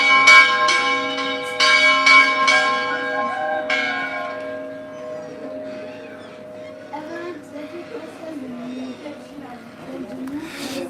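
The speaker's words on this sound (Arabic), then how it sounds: "صوت الجرس وبعكفرة عم توقع" A church bell ringing in Bekaa Kafra village, several clear resonant strikes early on that fade into a long lingering hum, with voices talking faintly beneath it.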